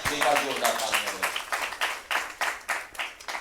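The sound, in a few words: audience applause at a poetry gathering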